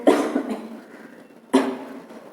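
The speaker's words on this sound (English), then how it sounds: "I got a cough just now" A person coughs twice, two short, harsh bursts about one and a half seconds apart. Both are close and fairly loud, with no talking between them.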